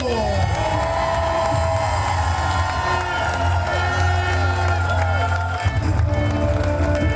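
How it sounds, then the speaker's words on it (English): Crowd cheers and shouts steadily at the finish of a men's World Triathlon Cup race in Tiszaujvaros, a broad sustained roar under commentary voices, with a brief louder burst near the end. "I love that big cheer from the crowd as well"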